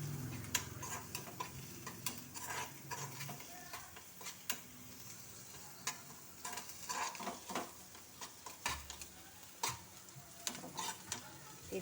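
Turmeric frying in a pan on a gas stove, heard as a soft, steady sizzle with frequent sharp ticks and scrapes of a spoon stirring against the pan, close and fairly quiet, with no talking.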